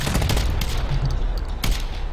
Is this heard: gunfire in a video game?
yes